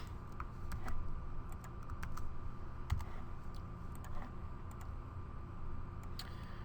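Steady typing on a computer keyboard while entering a file path, irregular light clicks and taps spread throughout over a low background hum, no voices.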